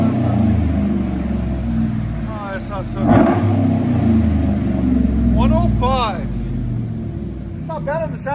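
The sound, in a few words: Chevy Silverado 5.3L V8 exhaust revving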